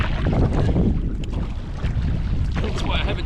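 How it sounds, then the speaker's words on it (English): Strong wind gusts buffet the microphone of a paddler in a canoe on open water, a loud, continuous roaring rumble with rising and falling surges and faint water sounds underneath. "Some of those gusts that pick up are just really strong."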